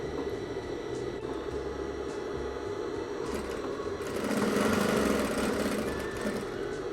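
A sewing machine runs steadily through a trouser seam with its presser foot down, a continuous close mechanical whir that grows slightly louder and busier in the last few seconds.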